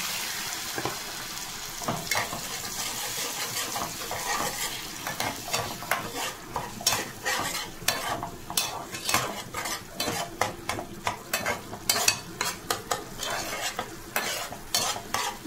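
Fish stir-fried in mustard paste, rapid rhythmic scraping and clinking of a metal spoon against the pan over a continuous sizzle, close and busy, quickening toward the end, no talking.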